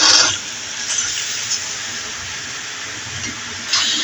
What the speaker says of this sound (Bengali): এখন এই যে চালটা দিয়ে দিচ্ছি